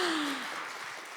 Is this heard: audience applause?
yes